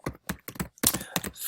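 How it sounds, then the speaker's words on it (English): Computer keyboard typing in quick bursts, several distinct key clacks in an uneven rhythm with short pauses between, close and clear with no talk. "And then I'm starting typing here"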